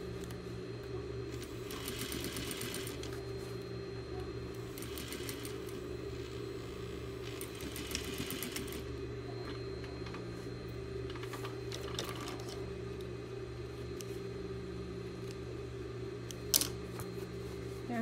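A sewing machine stitches a fabric cylinder, a steady close motor hum with rapid needle chatter running nearly nonstop, briefly slowing and dipping partway through before resuming evenly, with one sharp click near the end and no talking.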